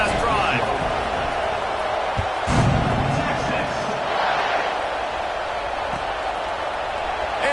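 Large college football stadium crowd at a Texas A&M game roars steadily through a kickoff, a broad continuous wash of cheering with a few thumps, while an announcer talks over it.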